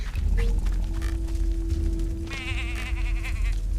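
A sheep in the video game Tak and the Power of Juju gives a wavering, drawn-out bleat over a steady tone and background game sounds, fairly close and clear.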